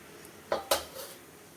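A metal lid lifted off a puttu steaming pot made with rice flour, giving two sharp clanks of metal cookware close by, followed by a faint rattle, with no talk.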